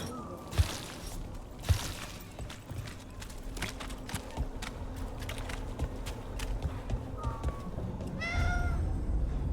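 A cat's short meows rise above busy in-game sounds in Dragon Age: The Veilguard, layered over a steady background of hoof clip-clops, footsteps and a pair of sharp knocks.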